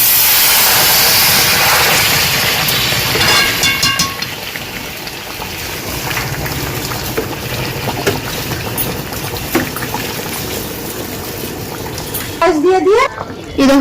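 Hot water poured from a side pot into simmering meat and potatoes that have been fried with spices, a loud hissing, steaming rush of liquid that fades into a steady bubbling, with a voice speaking over it.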